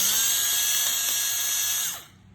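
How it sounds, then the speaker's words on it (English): Drill motor boring out a part on a series 32PT cone and distributor, a loud close high-pitched whine held steady for about two seconds before spinning down and stopping. "you take your drill motor and you're going to drill this one out here"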